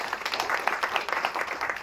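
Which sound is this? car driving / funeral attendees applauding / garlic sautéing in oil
funeral attendees applauding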